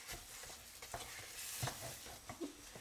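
A spoon stirs thick Thiruvathirai kali in a pan over heat, giving soft irregular scraping and stirring sounds with a faint sizzle, close and quiet, with no voices.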